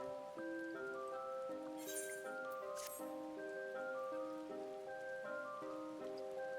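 Rain falls steadily over the city of Ul'dah in Final Fantasy XIV, a soft, even patter heard alone beneath a bright, layered game music melody, with a couple of brief louder splashes.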